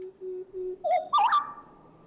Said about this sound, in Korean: 맑은 목소리의 주인공은 바로 휘파람새.